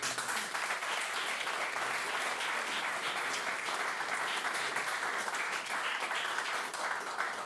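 A debate audience applauds its speakers after a motion on universal basic income, an even, continuous round of clapping from a fairly large room without speech.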